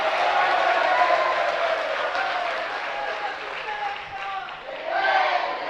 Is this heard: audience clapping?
yes